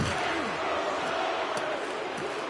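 An arena crowd in the hockey video game NHL 26 jeers, a dense, continuous roar of voices with rising and falling boos, loud and unbroken throughout.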